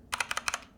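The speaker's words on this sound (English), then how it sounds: "the Enter key has an odd squeak and a different tactile feedback than the backslash key" A Keychron K2 mechanical keyboard, with an Enter key that squeaks and feels unlike the backslash key, gives six quick, close key clacks in pairs in under a second, with nothing else heard.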